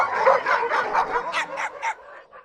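A pack of hunting dogs on a trail in the Jura bays and yelps in a rapid series of loud, close barks that trail off at the end.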